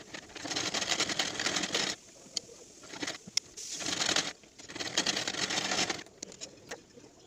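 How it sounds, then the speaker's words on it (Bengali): A sewing machine stitches the front part of a katori blouse in three sustained runs of rapid mechanical whirring, separated by short pauses with faint clicks. "প্রথমে ফার্স্ট পার্টটা সেলাই করে নেব।"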